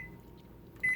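A microwave oven keypad gives a single short, clear electronic beep as the power and time are set, following a quiet stretch of faint room hum.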